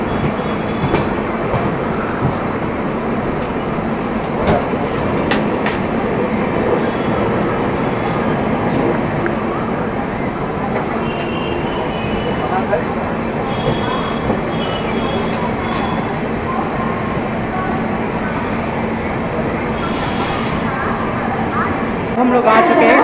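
A passenger train on the South Bihar Express route pulls into a junction station with a steady rumble of rolling wheels and faint clatter. Someone talks over the noise, and a brief screech comes near the end.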